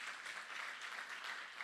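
Church congregation applauding during an evangelical sermon, a steady dense patter of many hands at moderate distance, fairly quiet and continuous with no voices over it.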